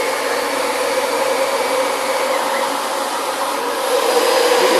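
A Dyson DC25 upright bagless vacuum runs on a hardwood floor with its brushes not rotating, giving a steady, loud, broadband motor whine and rushing airflow throughout.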